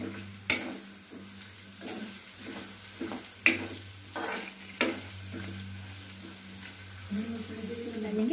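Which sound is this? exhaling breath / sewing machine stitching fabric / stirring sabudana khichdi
stirring sabudana khichdi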